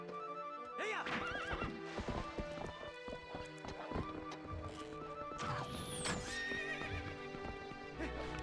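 Horse in Zelda: Twilight Princess whinnying repeatedly over galloping hooves, with a crashing effect midway and a bright game sound, all fairly faint with no talking.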